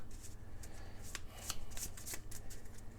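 Board game cards for Roll Player: Monsters & Minions being shuffled by hand, a run of soft riffling flutters and snaps close by, with no talking.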